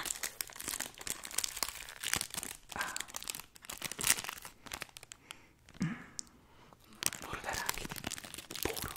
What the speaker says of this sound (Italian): Allora, apriamo questi 180 calorie, sto pezzetto.